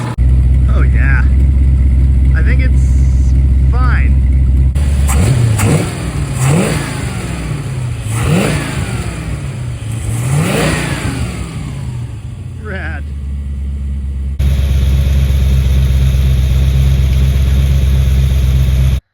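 A 1974 Dodge W100 pickup's swapped-in 383 big block V8 runs loud and close, rising and falling through several hard revs before settling back to a steady rumble, with voices talking over it.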